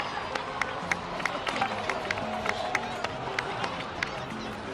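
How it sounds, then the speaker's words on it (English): In Genshin Impact, a crowd applauds in a steady, even patter of many hands, moderately distant with faint murmur underneath. "please give another round of applause for them"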